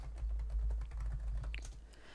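Rapid keystrokes patter across a computer keyboard as text goes into a database form, a quiet, continuous clatter with no talking.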